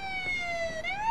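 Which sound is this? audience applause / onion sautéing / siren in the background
siren in the background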